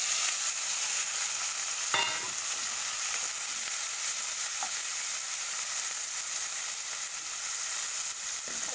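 Fish fries lightly in oil in a wok with a continuous, even sizzle and hiss up close. It runs alone, with no talking.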